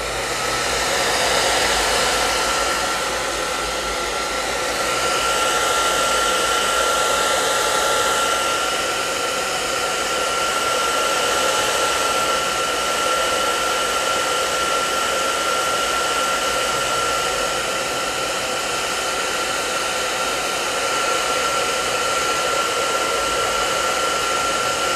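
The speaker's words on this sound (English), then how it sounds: "I'll just take a quick little break here. I might hit this with my hair dryer really quick" A hair dryer blows continuously at close range, a steady whooshing roar with a faint high whine, unchanging for the whole stretch.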